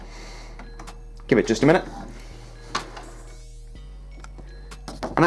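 An Epson XP-452 inkjet printer printing a nozzle check page gives mechanical whirs, clicks and a steady motor hum, with brief speech over it near the start.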